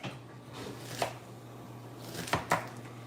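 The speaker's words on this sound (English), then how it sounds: "And we're back to the chopping of onions." Onions being chopped with a knife on a board, three sharp distinct cuts spaced irregularly against a quiet room background.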